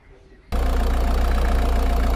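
A Peugeot 3008 car engine catches abruptly after a short quiet moment and settles at once into a loud, steady idle with an even, low rumbling pulse.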